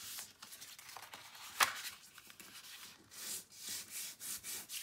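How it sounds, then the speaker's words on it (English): Scored cardstock being accordion-folded for a Graphic 45 Christmas craft project, heard as close, soft rubbing and creasing scrapes with one sharp crisp snap near the middle and a run of brushing strokes toward the end, no talking. "we are going to go ahead and start doing our accordion folds"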